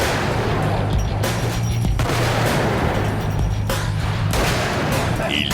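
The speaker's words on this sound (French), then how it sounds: "Il prête son Desert Eagle à chaque membre de l'équipe. Tout le monde l'essaye." Desert Eagle pistol fired repeatedly outdoors, several sharp loud cracks spaced a second or so apart over steady background noise, with people talking faintly around the shots.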